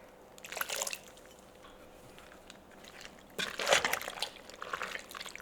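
Flavorless tomato sauce poured into a cooking pot during freezer meal prep, heard as two quiet bursts of wet, glugging liquid with a lull between them.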